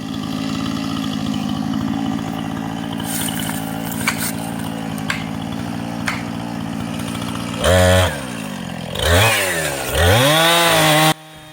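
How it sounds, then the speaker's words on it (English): A Husqvarna chainsaw cuts into a tree being felled. It drones steadily at first, then revs up and down in loud surges as the saw binds in the cut, and cuts off abruptly at the end. "the saw was trying to pinch"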